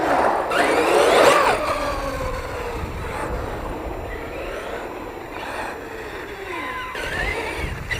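A Sentalion V3 RC car runs on outdoor ramps in light snow, giving a steady motor whine with rising and falling tones and rolling wheel noise throughout, loudest near the start.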